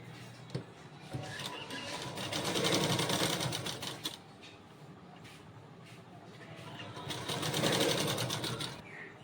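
A sewing machine stitches piping cord in two loud runs, each a dense rapid whir that rises and then drops off, with quieter handling noise in the pauses between.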